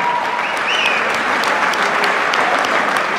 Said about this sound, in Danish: så skal vi lige starte med et bifald til de to unge damer her